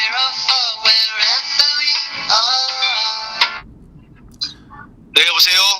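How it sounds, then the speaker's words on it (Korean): A telephone call placed during a live broadcast rings out: repeated loud, steady ring tones for several seconds, then a quiet pause with low noise before another burst of tone at the end. "이게 이제 생방송 중에 실제로 명태균 씨하고 전화 통화를 한번 시도한다."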